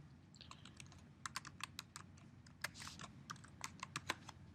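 Keystrokes on a computer keyboard while a note is entered in a printer management web form, a quiet irregular patter of close clicks in bursts, alone with no talking.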